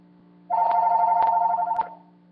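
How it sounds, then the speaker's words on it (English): A telephone rings once in a sustained electronic trill lasting over a second, close and clear against a quiet room. "The phone rang."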